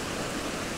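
Watkin Falls, a waterfall on Snowdon, gives a brief, continuous rush of falling water, a steady broadband roar with no talk over it.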